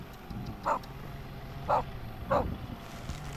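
A neighbor's dog at a ranch gives three evenly spaced barks over a steady low background hum, moderately close and fairly loud.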